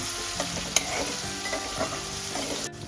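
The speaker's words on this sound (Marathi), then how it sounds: "हे आपल्याला थोडंसं सोनेरी रंगावर भाजून घ्यायचं आहे कांदा आणि लसूण" Onion and garlic fry toward golden in a hot pan, a continuous close sizzle broken by repeated stirring scrapes, with one sharper knock near the middle.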